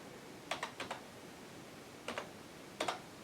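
Typing on a portable USB keyboard with a Toshiba Thrive tablet, a few short bursts of crisp close key clicks separated by quiet pauses.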